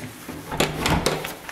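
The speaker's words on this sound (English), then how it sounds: "You just close the door" An old house door is pushed shut, giving a few dull wooden knocks and a rattle of the latch in a short burst inside a room.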